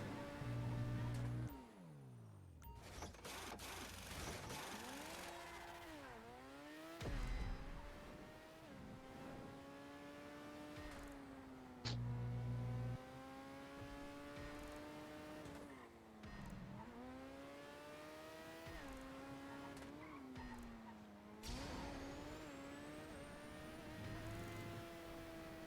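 A race car in GTA Online drives hard through a race, its engine whining and rising and falling in pitch through gear changes and corners, with occasional tire squeals and no talk.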